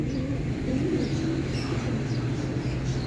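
Racing pigeon from Balatan, Legazpi, a single-ring old bird, cooing in low repeated murmurs against steady strong wind noise, fairly close and continuous.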